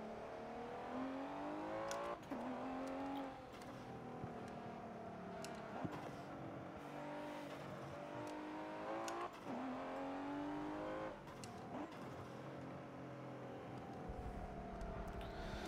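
Racing car engines in Forza Motorsport 7 wail through repeated upshifts, revs climbing and dropping in a steady cycle every few seconds, loud and continuous on its own.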